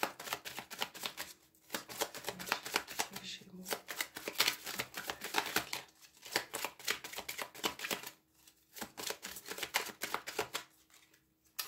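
Sixth sense oracle cards are shuffled close up in repeated bursts of crisp riffling and flicking, separated by short pauses, while someone talks quietly over them.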